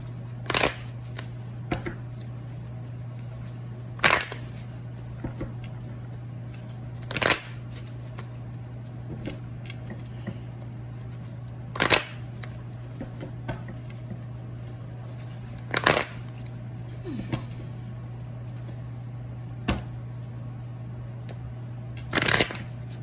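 Tarot cards are shuffled in short, crisp riffling bursts every few seconds, close and clear over a steady low electrical hum.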